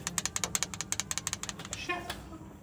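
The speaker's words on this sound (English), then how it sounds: "What is not perfect, however, are the noisy tappets" A 660cc kei car engine with noisy valve tappets ticks in a fast, even rattle of sharp metallic clicks close by, fading out toward the end.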